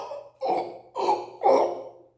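A wolf chokes on a bone stuck in its throat, giving three strained, raspy coughing bursts in steady succession, close and fairly loud.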